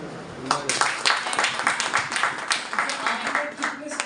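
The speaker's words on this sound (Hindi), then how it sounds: "क्या एकदम ताली बजाओ।" Audience at a sales training session claps in a quick, uneven burst of sharp hand claps, fairly close and lively, sustained for a few seconds.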